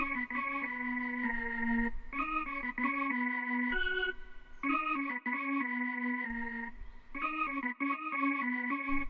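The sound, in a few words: organ counter melody from 40's Very Own Keys sample bank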